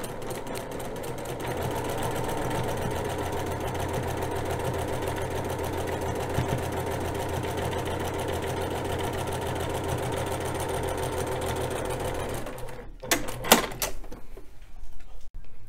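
A sewing machine stitching a quilt block hums in a long, steady run close by, then halts, followed by a few clicks and handling knocks as the work is lifted.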